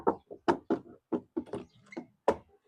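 Knocking on a door, a quick irregular series of about nine sharp, close raps with no talking.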